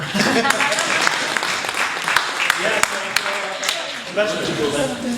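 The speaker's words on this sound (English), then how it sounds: "Clap for me there." An audience at a Pakistan Resolution Day event claps in scattered, uneven bursts, with a voice speaking over the applause.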